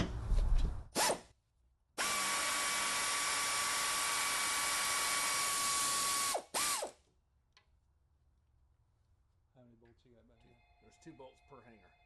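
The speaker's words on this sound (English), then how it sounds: "we're going to unbolt the muffler hangers back here" A power tool works on the muffler hanger bolts of a C5 Corvette during an exhaust install: a short burst, then a loud sustained whine of about four seconds, another brief burst, then quiet with a few faint clicks and some light voices.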